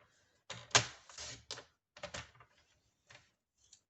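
Paper for a Christmas card being cut in a few short bursts of crisp snipping and rustling, close and fairly quiet, with brief pauses between cuts.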